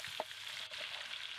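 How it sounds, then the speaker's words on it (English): Spiders frying in a hot pan, a soft steady sizzle with a faint crackle, close and fairly quiet, no voices. "Oh, you can hear it all sizzling."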